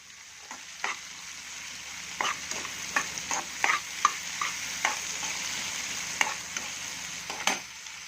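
Onions sautéing in ghee in a pan for rava upma give a steady, close sizzle, broken by a dozen or so sharp clicks and scrapes from stirring, with no voices.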